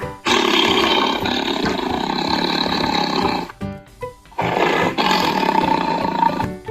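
A tiger gives two long, deep, rumbling roars, close and powerful, with a brief pause between them.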